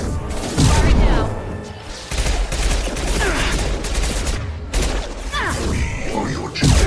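Weapons fire in the video game Mass Effect 2: dense, continuous bursts of gunfire and impacts across a busy battle mix, loud and close, with game voices and music running underneath.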